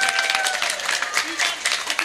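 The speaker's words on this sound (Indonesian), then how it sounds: "tepuk tangan dulu" An audience at an Islamic study gathering breaks into applause, brisk overlapping clapping with crowd noise and a faint tone running underneath, fairly loud and continuous over a short stretch.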